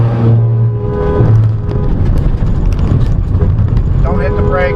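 A car speeds up hard to pull away from a tailgating driver, engine roaring close up inside the cabin while people talk urgently over it.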